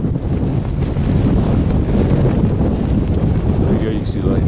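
Strong wind roars steadily across the microphone high on Mount Rainier at night, a loud continuous buffeting rush that masks nearly everything else.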